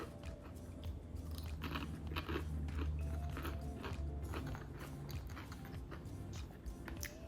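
Crunchy bites and chewing of a crispy fried crab rangoon wonton with a thin wrapper and cream cheese crab filling, close and loud with crackly crunches repeating over several seconds.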